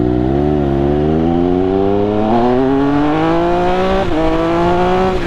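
A Triumph Speed Triple 1200 RS motorcycle engine under way, a loud, continuous drone climbing steadily in pitch as it accelerates, with a brief dip and recovery near the end.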